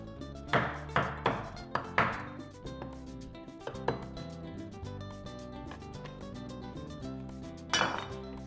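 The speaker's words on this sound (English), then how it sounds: "Need to chop that one down." Knife chopping cooked brisket for Mexican tacos on a board: a quick run of four sharp, close chops, then single chops spaced apart, with music playing steadily underneath.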